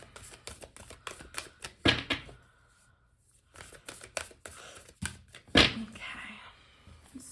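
Tarot cards being shuffled in quick riffling bursts, with taps and thumps between, and soft speech faintly present.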